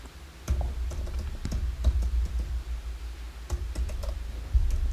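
Computer keyboard keys tapped in short irregular bursts, close and fairly quiet, with scattered clicks and brief pauses between keystrokes and no talking.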